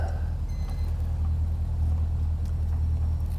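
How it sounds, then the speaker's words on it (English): A wheelchair lift lowers from a bus to ground level with a steady low mechanical hum and engine rumble, continuous and close, with faint higher whine above. "Lift comes down to ground level with the interior floor of the bus."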